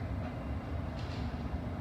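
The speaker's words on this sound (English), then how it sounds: "This is an all-station Metropolitan Line train to Uxbridge." A London Underground Metropolitan Line train running between stations, a loud, steady rumble of wheels on track with a brief higher squeal partway through.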